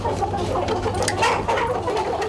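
Chickens clucking inside a farm chicken coop, several birds making soft, overlapping clucks and murmurs over a low, steady hum, with no talk.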